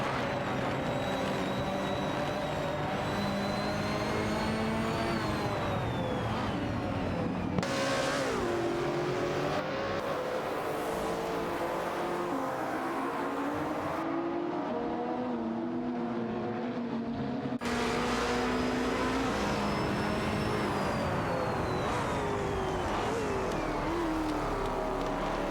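Race car engines from an AI racing video game drone steadily, pitch rising and falling as the cars accelerate and shift, a continuous loud mechanical whine with no talking.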